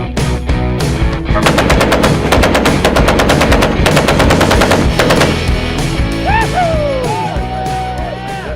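Machine guns fire close and loud in long rapid bursts, with steady staccato rattling, then give way to whooping yells.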